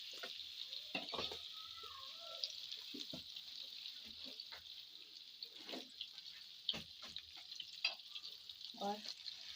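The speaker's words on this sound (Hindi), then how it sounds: "मक्खन के साथ अच्छे से भून लेना है" Plain flour (maida) roasting in melted butter in a pan over low heat for a creamy cheese pasta sauce, giving a soft steady sizzle with occasional stirring scrapes and clinks.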